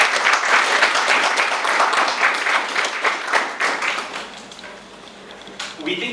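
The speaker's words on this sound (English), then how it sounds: "let's give a big round of applause for the Tmod of today" Audience at a Toastmasters meeting applauds, with dense, loud clapping that gradually thins and fades, while a voice speaks over the final stretch.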